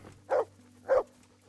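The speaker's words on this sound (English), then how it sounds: "What is that dog doing?" A dog in Kingdom Come: Deliverance gives two short, clear barks about half a second apart, close and alone with no talk over them.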